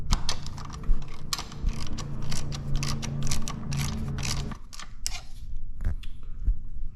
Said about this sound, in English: go ahead and get your 8mm socket and remove this screw